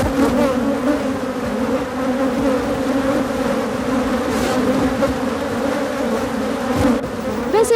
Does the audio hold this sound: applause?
no